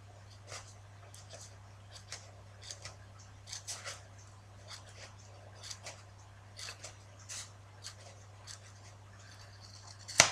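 Scissors snip through material in a quiet room in a series of irregular light cuts and clicks over a steady low hum, ending in one louder click.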